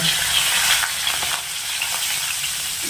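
Asafoetida and curry leaves sizzle and crackle in hot oil with cumin for a barley breakfast, a steady close frying hiss with brief stirring, no talk.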